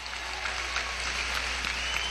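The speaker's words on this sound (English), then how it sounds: "I want to give another round of applause to all the teachers who helped you" Applause from an audience at a school theater and poetry reading, honoring the teachers: a steady, moderately loud wash of many hands clapping at once that holds evenly for about two seconds with no talking over it.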